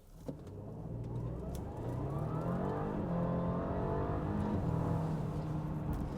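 A 2019 Audi A6 S-Line with a 7-speed dual-clutch gearbox accelerates hard on a snowy road, its engine note climbing steadily and loud from the cabin, with rising harmonics and no talk.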